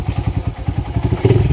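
A motorcycle tricycle engine runs close by with a fast, regular thumping putter, steady pulses clattering through a short stretch.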